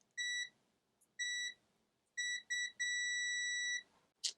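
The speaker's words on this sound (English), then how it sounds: "So if I hold them together, it will beep." A ZOTEK ZT-X multimeter in continuity mode gives a series of high electronic beeps as its probe leads touch. The beeps are clean and steady, some short, one held for about a second, with a brief clatter at the end.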